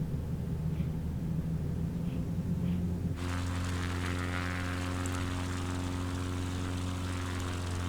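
A small propeller plane coming in aggressively to land at an airfield by a cottage dock, its engine a steady loud drone that shifts to a harsher, fuller roar partway through, with no voices.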